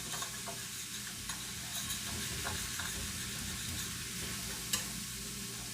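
Chopped onions sweat in a pan, a steady soft sizzle running throughout with occasional scrapes and clicks of a spoon stirring them, close and even, no voices.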